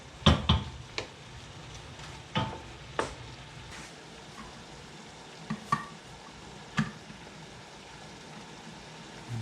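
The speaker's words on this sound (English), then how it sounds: "I'll stir this up really good." Food gets stirred in a pot in a home kitchen. A spoon scrapes and knocks now and then against the pot, with a faint sizzle running underneath.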